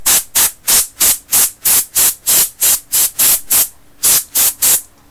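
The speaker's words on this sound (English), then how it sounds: "The last thing I'm going to do before I prime is actually take some canned air." Canned air blasts over a scale model vehicle before priming, cleaning out seams and panel lines: a rapid string of about fifteen short, loud hissing bursts, a brief gap near the end, then a few more.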